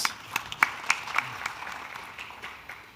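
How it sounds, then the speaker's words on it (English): Scattered clapping from a small audience at an international dairy conference in Africa, a few distinct claps that thin out and fade within seconds. "Clap again, please."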